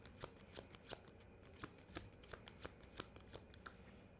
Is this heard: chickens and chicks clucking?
no